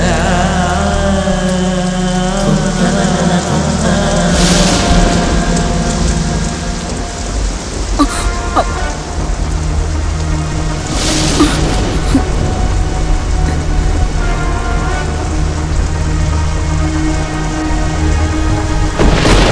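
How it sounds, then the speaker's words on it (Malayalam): Heavy rain pours down steadily and loudly during a storm in a rural Kerala setting, a dense unbroken roar with a few sharper gusts or thunder swells rising above it; no voices. "വല്ലാത്ത മഴ"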